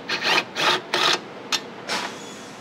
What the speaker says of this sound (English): next I'm gonna take the two 13 millimeter bolts out of this little, for this little bracket right here.